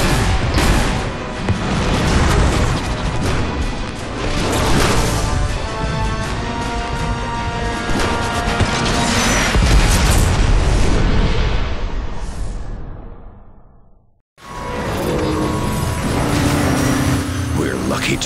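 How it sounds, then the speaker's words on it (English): A warship rams into the heart of a space station in the video game Transformers: War for Cybertron, with a long, loud roar of crashing and booming explosions that breaks off abruptly and then resumes as heavy rumbling destruction. "Ram this warship straight into the heart of that station!"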